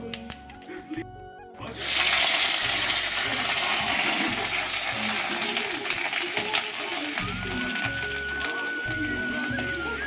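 Cumin seeds and a bay leaf sizzle in hot oil for tempering, ahead of making mustard pabda fish; a sudden loud, steady hiss begins after a brief silence and crackles on under a low clattering background.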